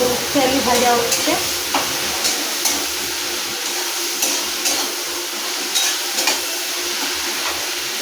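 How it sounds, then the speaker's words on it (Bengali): Potatoes, with taro, fry in oil in a pan, giving a continuous close sizzle with stirring scrapes and soft clicks that settles into a lighter hiss, no talking. "হচ্ছে আলু ভাজা।"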